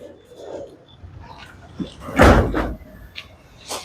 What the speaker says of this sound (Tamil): கதவை திறந்து